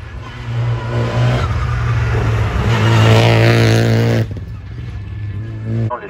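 A race car at the Bouc Bel Air hill climb roars close by, revving hard and rising in pitch as it accelerates past, then fades away. A low engine drone continues underneath.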